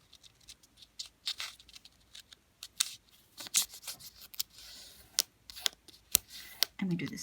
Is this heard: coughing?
no